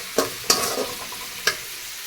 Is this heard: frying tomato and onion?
yes